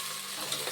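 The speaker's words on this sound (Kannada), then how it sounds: "ಆನಿಯನ್ ಜೊತೆಲಿ ಇದನ್ನು ಚೆನ್ನಾಗಿ ಫ್ರೈ ಮಾಡ್ಕೊಂಬಿಡೋಣ" Mint leaves and onion fry in a pan for a brief moment, a steady close hiss of sizzling with faint scraping.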